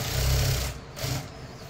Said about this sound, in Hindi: यहाँ पे एक स्टिच लगाएंगे। अब इसको स्टिच कर देंगे।